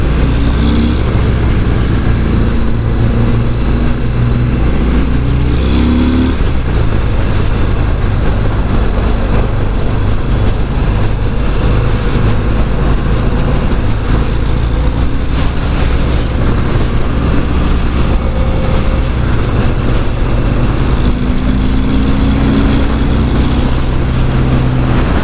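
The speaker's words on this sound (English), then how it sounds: "So you definitely feel the power of the 114 higher in the RPM range than I thought you would." A 2018 Harley-Davidson Fat Bob 114 Softail motorcycle on a test ride, its engine a loud, continuous rumble throughout with wind noise and a couple of shifts in pitch as the revs change.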